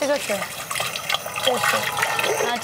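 Cold running water pours steadily from a tap, filling a container, with a voice speaking over the splashing.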